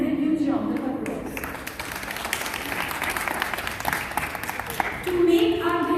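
An audience at a school Constitution Day assembly applauds to welcome the principal, a steady, dense wash of clapping that carries through the whole stretch and swells again at the end.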